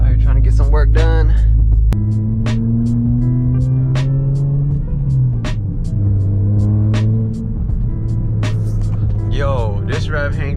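The tuned engine of a 2008-2012 Honda Accord hums steadily on a night test run, its pitch shifting gradually as it is driven, under frequent clicking and a voice talking at the start and end.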